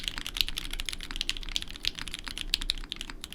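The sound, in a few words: typing on polycarbonate Kohaku keyboard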